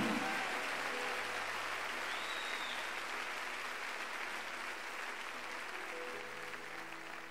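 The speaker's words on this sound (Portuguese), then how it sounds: "Aplauda Ele de todo o coração" A church congregation claps in sustained, dense applause that holds steady and fades slightly toward the end.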